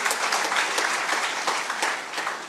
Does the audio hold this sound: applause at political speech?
yes